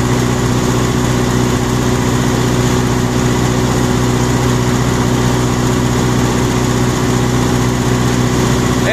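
Close and loud, a Teksan three-phase generator engine runs in a steady, unchanging drone with a low hum while it cools down, and no one speaks.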